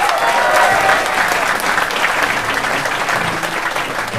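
Sustained audience applause fills a seminar hall, steady and dense throughout with a faint murmur of crowd voices beneath.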